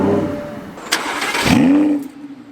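An Audi R8 V10 Plus engine turns over with a starter whine, then fires into a loud, sharp bark that settles quickly into a lowering rev, close and alone.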